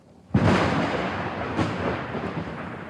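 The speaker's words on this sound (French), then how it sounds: "it's the sound of the lightning bolt that is frightening. Thunder is inseparable from lightning." A sudden thunderclap from a lightning bolt, a sharp loud crack followed by a long, heavy rumble that rolls on and slowly fades, with a second swell partway through.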